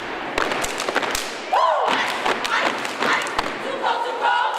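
A national champion high school step team stomps at a pep rally, with heavy rhythmic thuds and sharp claps ringing out in a loud, echoing gym while the crowd cheers and shouts around them.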